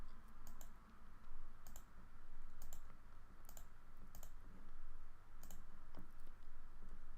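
Computer mouse clicks while working in drawing software, about seven sharp, light clicks at irregular intervals, some doubled, close but faint over a steady low hum.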